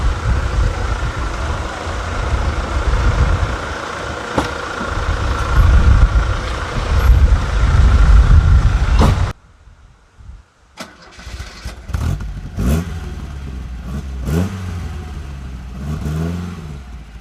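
Opel Ascona rear-wheel-drive rally car on a sunny winter day: a loud, dense engine roar for about nine seconds, then a sudden drop to a quieter, rougher running engine with rising and falling revs.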